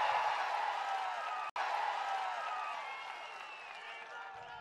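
A large crowd at a TDP political rally in Bobbili, Andhra Pradesh, claps loudly and steadily with scattered cheers. The dense ovation runs throughout, broken by one very brief dropout, then tapers slightly toward the end.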